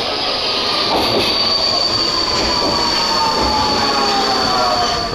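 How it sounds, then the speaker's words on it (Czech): Loud, steady rumble from inside a Budapest metro train in motion, with a sustained high wheel squeal and a continuous rolling roar throughout. "jdu se projet metrem"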